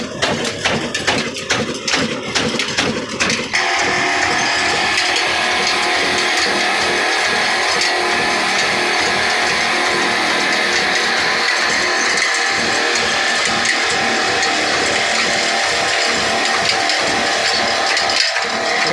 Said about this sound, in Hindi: इस टाइम इंजन का काफ़ी जोर लग रहा है, क्योंकि इंजन स्लो चल रहा है,